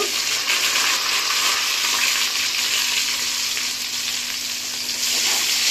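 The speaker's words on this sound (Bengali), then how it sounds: "এটা ভালো করে ভাজতে হবে।" Onion, bay leaf and garam masala frying in hot oil while being stirred, giving a steady loud sizzle that carries on without pause, close up, with no talking.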